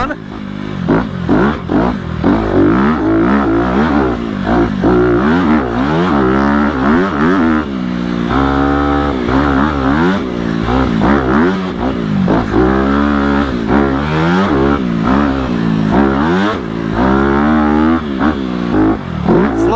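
Honda CRF250RX dirt bike, a 2020 model, riding flowy trails, its engine revving and surging continuously with shifting pitch, loud and close throughout, a rider's voice breaking in briefly over the motor.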